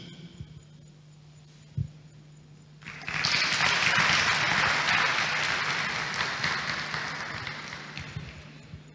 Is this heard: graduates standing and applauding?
yes